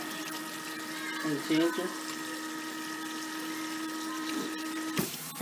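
Running water rinses a treatment out of a young girl's natural hair during a wash day at a sink, a steady pump-like flow continuing throughout while someone talks briefly over it.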